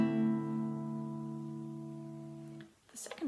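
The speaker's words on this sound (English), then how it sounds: "So your first bass note and chord will sound like this." A guitar sounds a single bass note together with a chord, ringing close and clear and slowly fading over a few seconds before being damped, followed by a faint brief noise.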